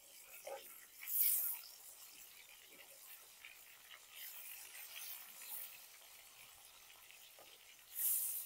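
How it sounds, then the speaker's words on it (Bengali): Rohu fish fry in a pan with a faint, soft sizzle, broken by a couple of brief metallic scrapes and clinks as the pieces are turned. "এবার মাছটা উল্টে দেবো।"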